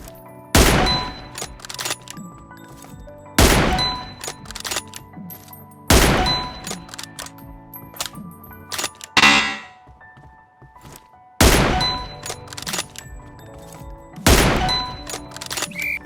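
Sniper rifle shots at targets in a video game's reaction-training mode: five sharp, loud reports spaced a few seconds apart, each ringing with a metallic clang and tailing off, plus a brief whooshing effect between them.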